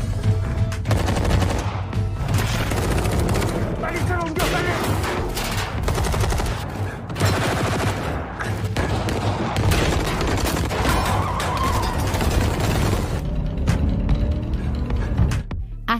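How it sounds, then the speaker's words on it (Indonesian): Heavy, continuous gunfire in a drama series, rapid automatic bursts and booms, dense and loud throughout, like a close firefight. "terdengar bunyi tembakan"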